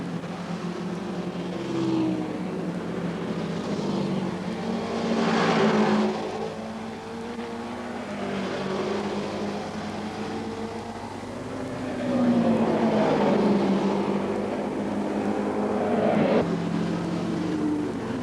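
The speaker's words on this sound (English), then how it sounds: "Third in the 750cc class is this bike, bike 24, being ridden by Lee Roebuck and Paul Feeney" Racing motorcycle from the 750cc class at the 1982 Castrol 6 Hour production race at Amaroo Park, engine roaring past in repeated rising and fading passes, with swells of revving that grow louder toward the end.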